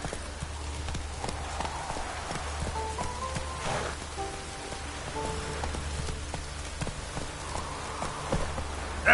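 Roach, a horse in The Witcher 3 video game, trots with a steady clip-clop of hooves over a constant hiss of falling rain and a low rumble, with soft musical tones drifting through.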